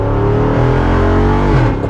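A 2022 Jeep Wrangler Rubicon 392 V8 revs hard in second gear, a loud, close, rising roar that climbs steadily for two seconds with a slight dip near the end, no voices.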